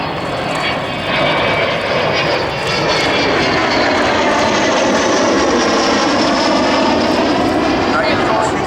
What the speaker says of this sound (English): So here she is, country's favourite aeroplane,